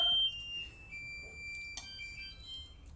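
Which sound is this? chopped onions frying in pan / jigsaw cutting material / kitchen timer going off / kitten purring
kitchen timer going off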